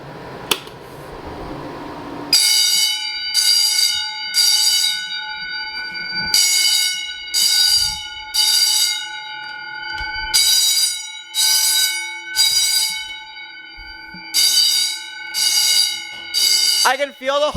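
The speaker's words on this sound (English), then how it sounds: "you can feel the vibration of the bells" Fire alarm bells ring loudly indoors during a system test, sounding in repeated bursts of about a second or two separated by short pauses.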